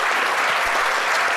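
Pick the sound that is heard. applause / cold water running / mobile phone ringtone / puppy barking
applause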